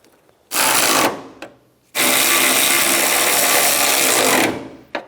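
Power tool tightening AC condenser bolts on a 1988-1999 GMC K1500, two loud, steady whirring bursts: a short one, then a longer run of about two and a half seconds, close up with no talk.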